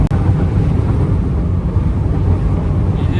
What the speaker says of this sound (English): Yeah, she's a bit breezy today.